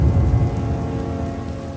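Steady rain falls with a low rumbling wash beneath it, continuous and fairly loud for the brief moment, with no voices.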